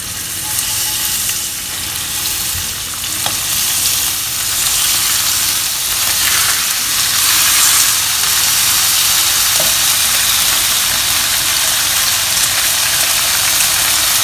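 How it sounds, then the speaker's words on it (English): Beef and enoki mushroom rolls sear in hot oil in a pan, giving a steady, loud, close sizzle with crackling hiss for about fourteen seconds and no talking. "We need to sear the beef and seal the juices in."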